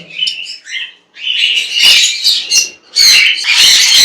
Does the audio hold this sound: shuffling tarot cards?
no